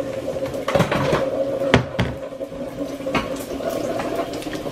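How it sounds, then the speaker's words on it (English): Tap water runs steadily in a home kitchen on a January morning, a continuous broad hiss with a few sharp knocks and clinks near the middle, close and moderately loud with no talking. "turn the water off"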